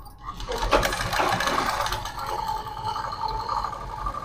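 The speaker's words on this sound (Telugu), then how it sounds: "నెక్స్ట్ అనుగుడు కుట్టేస్తున్న దీనిపైన." A sewing machine runs in a continuous whirring burst, stitching the neckline of a prince-cut deep-neck half-saree blouse. The motor and needle clatter close and alone.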